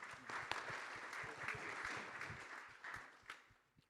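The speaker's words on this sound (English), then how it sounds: "Everyone give Marek a big round of applause." Faint, distant applause from a conference audience at a verifiable-data tech summit, a steady patter of many hands lasting a few seconds and thinning toward the end, with no voices over it.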